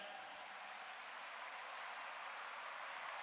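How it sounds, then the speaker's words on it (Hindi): Steady applause from an audience at a Dayanand Saraswati birth anniversary event, a dense even wash of clapping at moderate level throughout with no break. "एक बार उनके यहां पधारने पर जोरदार तालियों द्वारा अभिनंदन।"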